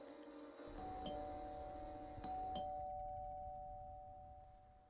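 A two-tone doorbell chime in a video game rings a few times, clear and moderately loud, with a soft electronic hum underneath and no talking.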